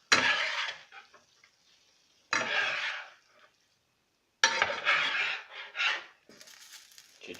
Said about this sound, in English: So just drop them in there, and then stir them in.